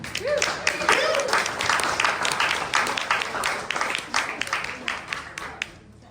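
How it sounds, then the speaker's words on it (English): Audience applause after a talk at a pub politics event, dense clapping from a room of people that thins and fades toward the end. "A round of applause for Sophie McNeil."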